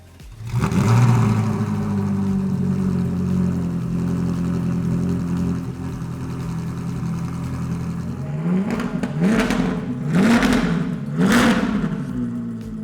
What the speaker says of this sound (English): It's that true Ferrari sound, which we all love.